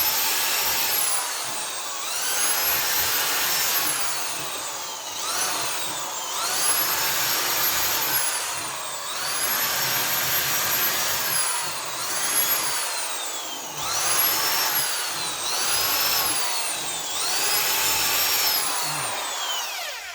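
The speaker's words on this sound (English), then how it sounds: "we've got a drill here, and it's got a brush on the end of it" A power drill with a wire brush whirs in repeated bursts on a big-block Chevy cylinder head, its pitch rising and falling with a harsh scraping grind against the metal, loud and close.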